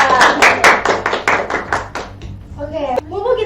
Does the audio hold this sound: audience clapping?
yes